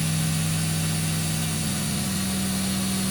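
A milling machine cutting as its toolpath ramps into the workpiece gives a steady, dense mechanical drone with a sustained tonal hum that shifts pitch slightly partway through, continuous and close, with no talking.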